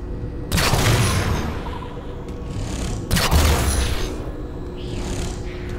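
Heavy gunfire and booming impacts strike a ship in Halo 4, two loud rumbling blasts with crackling bursts that decay into a low roar between them.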